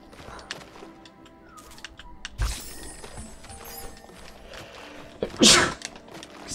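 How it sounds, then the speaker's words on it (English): One loud, sharp sneeze bursts out near the microphone over quiet game sounds, after a smaller earlier noise. "Excuse me, I just sneezed."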